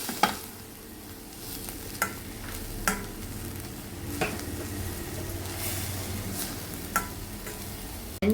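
A spoon stirs green beans with grated coconut in a pan, sizzling softly, with periodic scraping knocks of the spoon against the pan.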